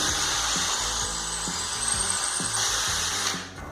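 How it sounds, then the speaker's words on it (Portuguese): A power drill bores through wooden slats while a large adjustable dog pen is being built, a steady whirring grind with repeated surges as the bit bites, close and loud, easing off at the end. "Quando quase estiver furando tudo, apoia sobre a madeira para não estragar o fio."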